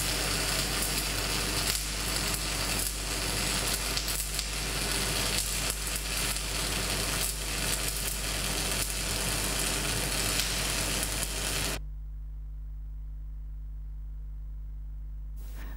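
MAG welding torch laying a fillet bead in an inside corner, a steady close crackling sizzle that cuts off abruptly near the end, leaving a quiet low hum, no voices.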